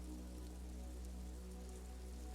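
Steady, soft rain falls in the video game Disco Elysium, a continuous even patter with a low hum beneath it and no other sounds.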